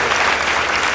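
An audience claps for a contestant from Meru on a game show, a dense, continuous burst of applause filling the whole short moment.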